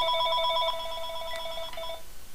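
A telephone rings with warbling electronic trills, two bursts of ring separated by a short gap, fairly close and clear in a quiet room with no one speaking.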